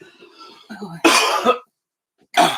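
Two sharp, harsh coughs close up, separated by a short silence, following a brief stretch of quiet throaty sounds.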